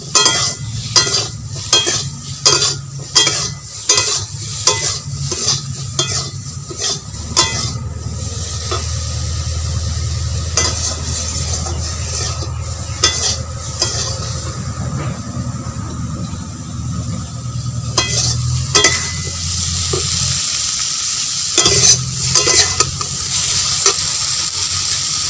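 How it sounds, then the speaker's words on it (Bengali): Brinjal fries in a pan with a continuous sizzle, while a spatula scrapes and knocks against the metal in repeated bursts, close and fairly loud throughout. "বেগুনটা ভালো করে ভাজব।"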